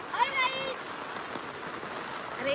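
Heavy, steady rain patters down on a rice farm field in a soft, even hiss, with a voice speaking briefly at the start and again at the end.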